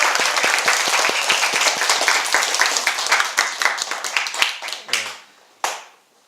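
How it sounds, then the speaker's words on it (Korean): A full audience breaks into applause welcoming a missionary at a church fellowship gathering, dense clapping that holds steady for about five seconds, then thins and fades, with one last brief burst near the end. "우리 선교사님 환영의 박수로 맞아주시면 감사합니다."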